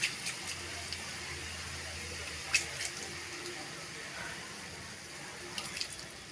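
Water is sprinkled from a hand over grated beetroot in a pan for beetroot poriyal, a faint, soft trickle and patter with a few small splashes over a quiet hum.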